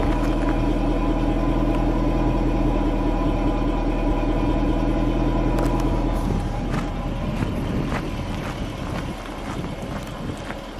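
A 2010 Jaguar XKR convertible, top down, idles with a steady low engine growl up close, joined by wind buffeting and rising engine rumble in the second half.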